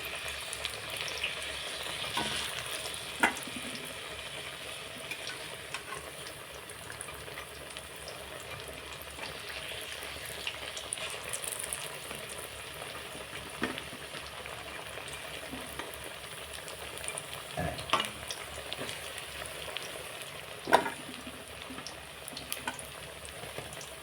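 Potatoes coated in gram flour batter frying in a pan, a soft continuous sizzle and bubbling with occasional faint crackles and small clinks, quiet and steady throughout.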